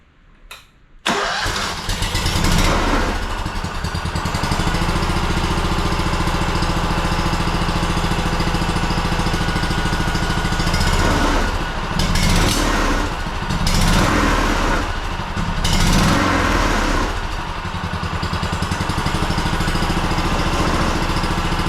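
A two-cylinder Honda engine that sat unused for ten years cranks briefly, then fires and settles into a steady, loud, continuous idle with slight fluctuations in its chugging drone.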